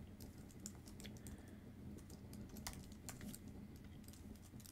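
Computer keyboard clicking steadily as code is entered, quick irregular keystrokes near and quiet with no talking.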